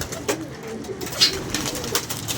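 Pigeons coo in a loft while their keeper sorts out the birds to hand over, several short soft calls spread across the moment over a low background rumble.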